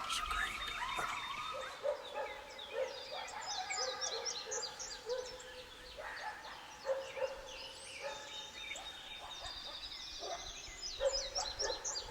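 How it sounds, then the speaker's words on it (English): Faint gobbling from a distant wild turkey carries over a busy dawn chorus of chirping and trilling birds in Kentucky woods, with no voices nearby. "we finally heard a distant gobble"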